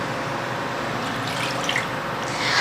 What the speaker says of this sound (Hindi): देगी खीर बनाने के लिए सबसे पहले एक पैन में मैं 1 कप पानी डालूँगी।